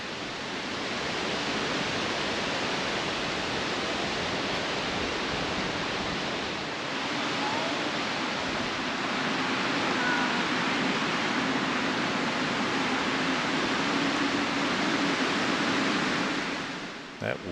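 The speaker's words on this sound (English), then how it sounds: "That wind is noisy in these trees. It's really blowing." Strong wind rushes steadily through trees in a lakeside park high above the water, a dense continuous roar with no breaks.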